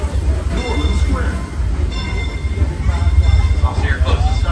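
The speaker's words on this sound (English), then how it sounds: "please remain seated until the train comes to a complete stop" Train pulling into New Orleans Square Station at Disneyland, a steady low rumble and rolling clatter throughout with faint squeals, under an amplified station announcement.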